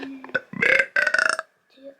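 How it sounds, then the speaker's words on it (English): A close, loud hungry burp drawn out in two voiced, croaking bursts, followed by a short faint trailing sound. "The hungry burp."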